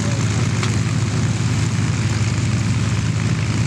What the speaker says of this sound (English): Bud Anderson's airplane takes center stage and literally turns sideways so that you can see the name on the side of the aircraft